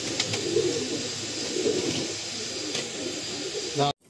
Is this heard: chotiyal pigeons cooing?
yes